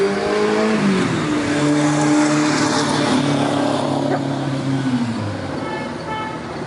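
A twin-cylinder motorcycle engine with a single exhaust revs up and holds a steady drone, then its pitch drops off toward the end. The engine is close and loud, with faint voices in the background.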